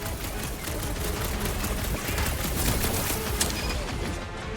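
Dense, continuous gunfire rattles through a Marvel's Guardians of the Galaxy video game fight, loud rapid bursts packed together with scattered impacts and a sharp crack near the end.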